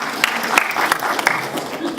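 A theatre audience claps in a dense burst of applause, loud and close, with a few sharper individual claps standing out.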